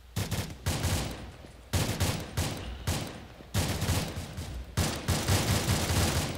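RPG rockets fire in the military video game ARMA 2 during an assault on an enemy camp, a series of loud, heavy blasts arriving in separate bursts about a second apart, with no talk over them.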